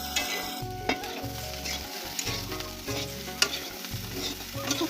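Potatoes fry and are stirred in a pan during dal puri preparation, with a steady close sizzle and repeated scraping strokes of the spatula against the pan, loud and continuous with no voices.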